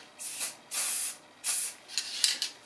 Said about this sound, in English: So I would always spray somewhere else initially,